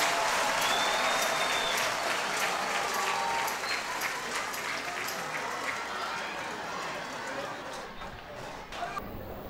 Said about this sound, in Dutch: Geef die man een applaus.